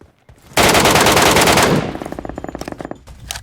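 A sustained burst of rapid automatic gunfire in the video game PUBG on the Metro map rattles loudly for over a second, then breaks into a string of quicker, spaced single shots.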